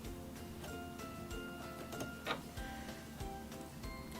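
Someone turns the hand wheel of a Singer Fashion Mate 3333 sewing machine, producing a quiet, rapid series of mechanical ticks and clicks with a faint whirring tone underneath, steady and close.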